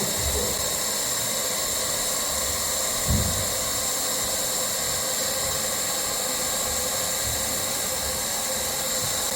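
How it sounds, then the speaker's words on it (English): Hot air welder heat-welding a vinyl flooring joint, giving a loud, steady blowing hiss that runs unbroken throughout with one brief soft thump partway. "So we're welding the new joint to the old joint."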